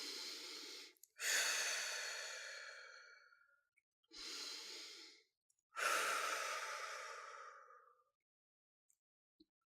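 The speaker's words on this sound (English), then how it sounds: "Take a deep breath in through your nose and out through your mouth." Three slow, deep breaths, each a soft nasal inhale followed by a longer, airy sigh out through the mouth, close and calm with quiet pauses between.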